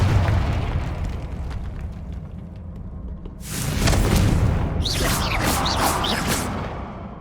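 Confringo fire spell from the Hogwarts Legacy video game bursts into a loud, broad blast with whooshing crackle, following a rumbling lead-in and trailing off over several seconds.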